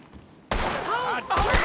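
Gunfire in a video game, a sudden loud burst of shots arriving after a quiet start, then continuing in rapid overlapping bangs with a brief dip before another burst.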